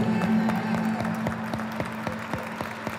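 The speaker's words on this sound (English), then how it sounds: "this applause is for you" Applause at a Hispanic Heritage Month closing ceremony, many hands clapping steadily in a large room over a faint constant hum.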